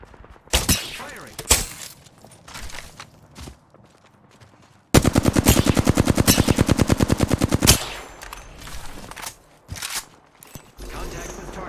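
Apex Legends gunfire: a few sharp single shots, then a long rapid automatic burst of evenly spaced loud cracks lasting about three seconds, followed by scattered game sounds.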